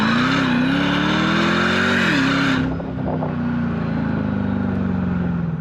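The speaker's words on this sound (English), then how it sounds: "the sounds that the supercharger makes and the sound from this engine, it is so cool" A supercharged Mercedes CLK DTM engine pulls hard with a loud, rising roar and supercharger whine, then a gear change drops the pitch before the engine builds again. The sound is close, dense and continuous.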